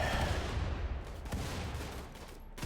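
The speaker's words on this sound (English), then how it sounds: "A lot of grenades flying everywhere" Grenades go off during a large RimWorld battle, dull thuds and crackling blasts packed close together over a rumbling, noisy field of fire, with no voices.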